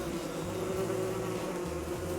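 Buzzing bees in the video game Don't Starve Together, a steady droning hum with a strong tonal band, continuous and fairly close throughout.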